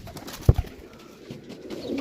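Pigeons kept for sale cooing softly and close by, a low throaty coo with a few faint repeats over background noise.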